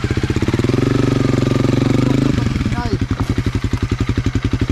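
A light motorcycle engine runs loud and close with a steady, fast-pulsing throb, dropping to a choppier lower rhythm halfway through, with brief speech over it.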